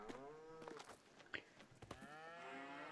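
Cows moo in Farming Simulator 22 on a Huron County, Michigan farm map: two long, harmonic bellows, one at the start and one near the end, with sharp clicks and knocks between them and no talking.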